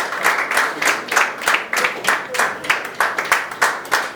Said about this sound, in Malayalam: നല്ലൊരു കൈയടി കൊടുക്കാൻ